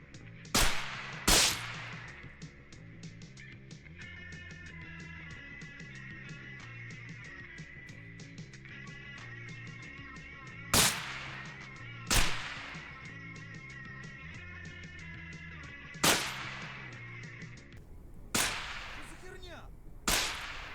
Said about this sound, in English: I'll leave you with the footage of me going around on this strange killing spree with the Kalashnikov